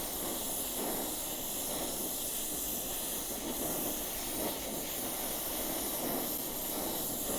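Hot steel of a handmade threading die hisses continuously as it is quenched in old motor oil, a loud, even steam-like rush that holds steady for several seconds with no voices.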